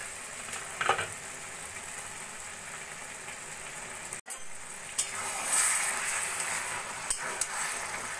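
Bottle gourd cooks in a pan with a steady soft sizzle while being stirred now and then, with a few light scrapes and clinks over the bubbling hiss.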